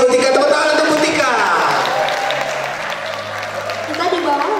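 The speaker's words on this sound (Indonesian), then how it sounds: "tepuk tangan untuk Bu Tika" Applause from a seminar audience for Bu Tika, a crowd clapping at first loud and then gradually thinning, with voices and murmuring mixed in beneath it and a brief low tone partway through.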